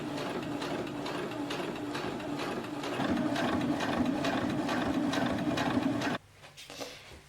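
A sewing machine stitches trousers in a long, continuous rhythmic chatter of needle and gears, growing slightly louder midway before stopping, followed by faint handling sounds.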